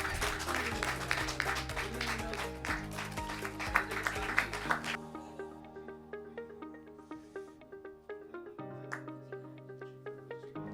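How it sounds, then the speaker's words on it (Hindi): Applause from an audience at a Hindi poetry gathering, first a dense burst of clapping, then dying down to scattered individual claps and light chatter, with background music running underneath. "जा जोरदार तालियों के साथ।"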